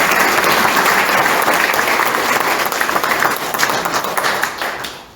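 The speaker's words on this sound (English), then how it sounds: "let's have a big round of applause for Jack" Crowd at an all-candidates meeting giving a big round of applause, loud and dense clapping that holds steady and then gradually tapers off over about five seconds.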